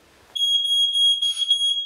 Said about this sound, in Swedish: Ta för vana att testa din brandvarnare med jämna mellanrum.